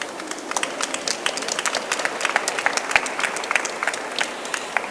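Steady applause from an art fair audience at a talk, dense crisp hand clapping that holds at an even level throughout with no voices over it.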